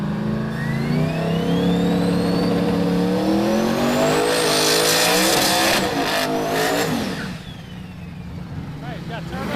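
Drag race cars launch side by side at a no-prep event, including a supercharged G-Body Malibu wagon, with loud engines roaring and rising in pitch over several seconds under an announcer's talk, then fading.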